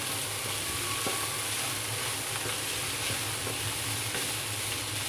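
Minced keema frying in a pan for keema spaghetti, a continuous even sizzle and crackle at close range with faint occasional stirring taps, no one talking.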